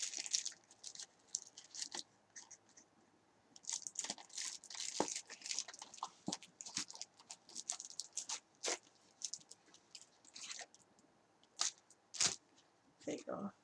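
Two thrift-store decks of playing cards being handled, giving a string of crisp close rattles, flicks and crinkles in uneven bursts. A voice talks faintly in between.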